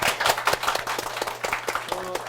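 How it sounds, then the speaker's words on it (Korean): A crowd at a career mentoring event claps steadily for a couple of seconds for two student MCs, with dense, overlapping hand claps forming continuous applause. "두 분의 대학생 MC들한테 박수 부탁드리겠습니다"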